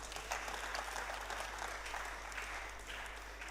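A conference audience claps for a speaker, a faint, even wash of distant hand-clapping lasting a few seconds over a low steady hum.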